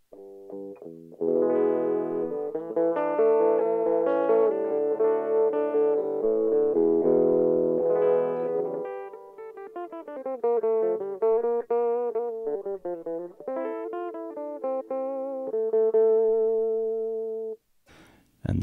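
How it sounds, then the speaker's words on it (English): Electric guitar through a wah-wah pedal rocked back to the heel position, giving a dark, muffled tone as a phrase of sustained notes and bends plays for about eighteen seconds, steady and fairly loud, with no talking. "Then I'm going to show you what a wah-wah pedal sounds like in the like heel position"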